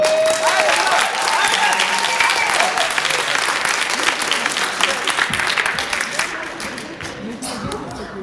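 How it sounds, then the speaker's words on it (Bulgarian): Loud, dense applause from an audience at a live music performance with guitar accompaniment, sustained clapping that fades slightly toward the end, with a few voices mixed in. "аплодисменти, моля!"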